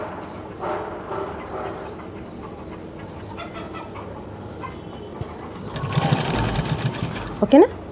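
A sewing machine stitches the side seam of a blouse, its rapid mechanical whirring rising loudly near the end in a close burst, with a voice speaking over the quieter stretch before it.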